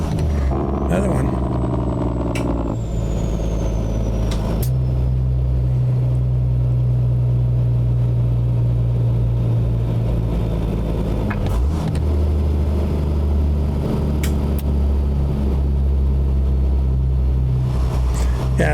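A Peterbilt 379 truck with a Detroit Diesel engine hauling a cattle trailer in American Truck Simulator, its engine drone shifting pitch at gear changes, including a rough shift, while a person talks over it.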